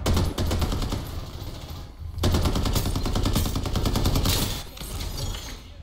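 Rapid automatic gunfire in the battle-royale shooter Farlight 84, dense loud bursts of shots running almost nonstop with a short pause before a fresh volley.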